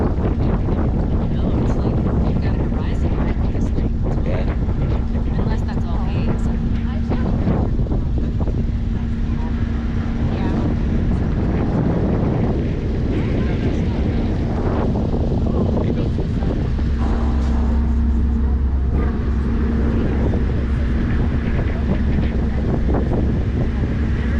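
Steady wind buffets the microphone over the low rumble of a ferry engine and churning water during a crossing, continuous throughout.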